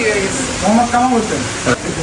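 Fish seasoned with turmeric and salt frying in pungent mustard oil at a riverside stall in Mawa, a soft steady sizzle close by, with a voice talking over it.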